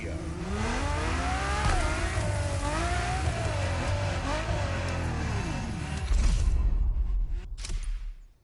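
A Ferrari GTO in the racing game The Crew Motorfest revs hard, its engine note climbing and dipping through gear changes, loud and continuous before a louder surge that cuts off at the end.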